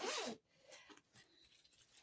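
A quick zipper pull on a bag pocket rasps close by, followed by a few quieter, shorter zipping strokes.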